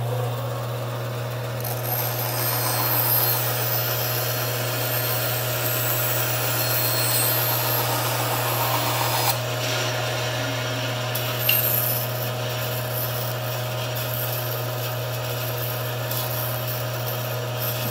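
A band saw cuts a bevel in wood with a steady, droning motor hum and a continuous rasping cut, loud and close throughout, with a brief knock near the end.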